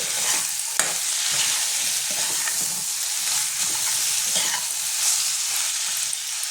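Whole green chilies and chopped tomato stirred in a pan of fish oil, a steady close sizzle with scraping spoon strokes throughout and no talking.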